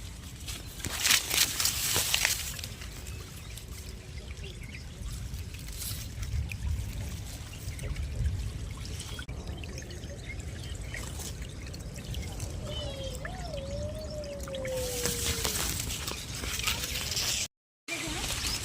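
Irrigation water running into a millet field: a steady broadband rushing and trickling flow that stays fairly constant throughout, with outdoor background noise and occasional voices.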